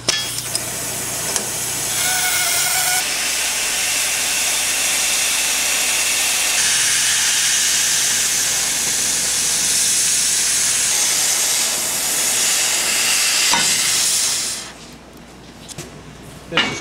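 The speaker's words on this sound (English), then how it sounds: "the torch we're using is this one, which is what we call oxyacetylene. It's oxygen and acetylene." An oxyacetylene torch cuts quarter-inch steel plate with a loud, steady roaring hiss that holds for about fourteen seconds and then drops away to near quiet.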